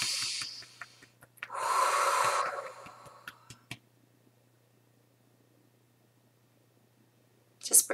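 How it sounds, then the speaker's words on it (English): Slow breathing in and out during a guided kundalini and throat balancing session: a soft exhale, a longer breathy rush, then quiet before another brief breath at the end, all close and faint over a low hum. "Just breathing in and out."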